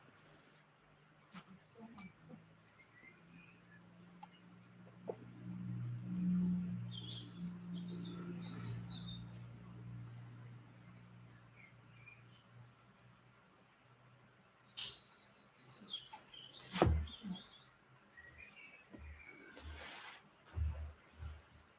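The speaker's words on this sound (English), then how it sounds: "I still hear the birds twittering away outside." Faint birds chirp and twitter in scattered bursts at a distance, with a low hum and occasional knocks and rustles nearby.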